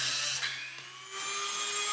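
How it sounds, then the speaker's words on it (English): A Dremel rotary tool with a cutoff wheel whines at high speed, dipping briefly as it bites into steel, then rising again in a loud, continuous close-up screech. "Dremel."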